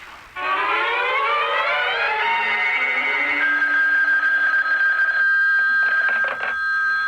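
A telephone rings in a CBS Radio Mystery Theater drama from 1980. A loud rising, wailing tone settles into a steady ring, followed by a few short ringing bursts, with no talking.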